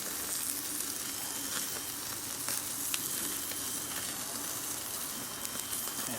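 Prime rib roast searing over a charcoal fire, a steady close crackling sizzle with faint pops, continuous and without speech.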